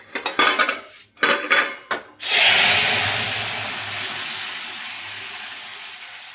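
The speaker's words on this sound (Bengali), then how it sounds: "তো মা এবার সবজিটা কড়াই দিয়ে দেবে।" Metal clanks and scrapes as boiled vegetables are tipped from a pressure cooker into a kadai, several sharp close knocks followed by a loud hiss and sizzle that slowly fades.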